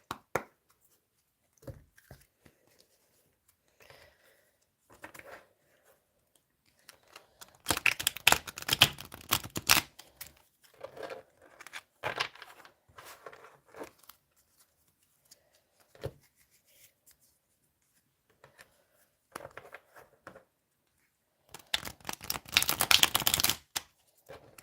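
Tarot cards are shuffled in two dense riffling bursts, up close and crisp, separated by quieter taps and handling noises.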